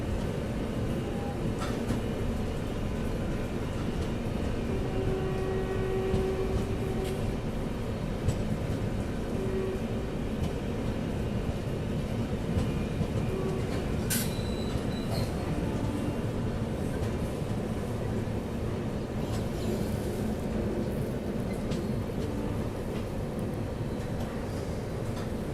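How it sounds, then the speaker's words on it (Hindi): Indian express passenger train accelerating along the track after changing lines, a steady loud low rumble of wheels and carriages with constant rolling noise and occasional faint squeals throughout. "और फिर हमारी ट्रेन ने ट्रैक चेंज करने के बाद एक्सेलरेट करना शुरू किया।"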